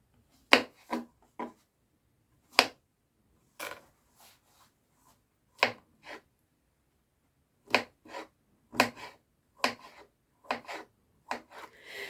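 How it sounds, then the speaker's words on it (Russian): A knife chops mushrooms into small cubes on a board, a close series of sharp, irregular cutting knocks spaced across several seconds with quiet gaps between strikes. "Грибы я буду резать вот так"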